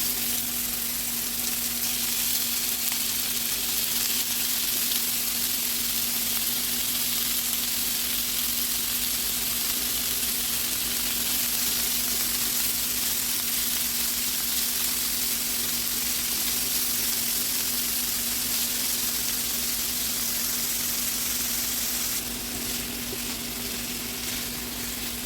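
Steak sizzles and fries in a hot oiled pan over high heat for garlic steak with mushrooms, a loud continuous crackling hiss with a steady hum beneath, no talking.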